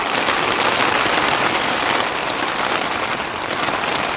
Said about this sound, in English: Hopefully this rainstorm will pass.